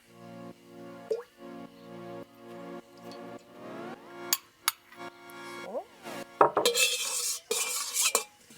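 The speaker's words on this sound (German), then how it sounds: "Verrühren das kurz. Und das Öl." Egg and oil whisked together in a bowl for burger bun dough, a close series of utensil clinks and scrapes against the bowl that grows busier and louder toward the end, with no talking.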